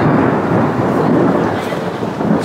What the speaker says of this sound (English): The thunder is coming, so maybe I won't be in it for very long.